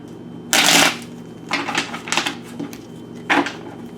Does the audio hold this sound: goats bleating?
no